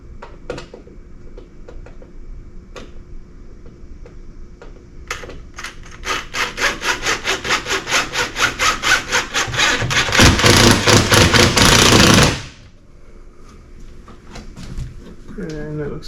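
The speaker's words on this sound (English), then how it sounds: "So now I'll put my drywall screw in the top." A drywall screw is driven into drywall while patching a hole: rhythmic gritty grinding pulses build into a continuous rasping burst that stops abruptly, close and fairly loud.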